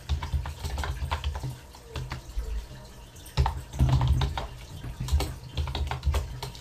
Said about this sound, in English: It's kind of hard to type and talk at the same time